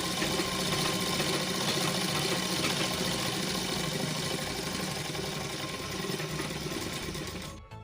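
A sewing machine runs continuously while stitching a salwar, a close, steady mechanical whirr with rapid rhythmic needle chatter that stops abruptly at the very end.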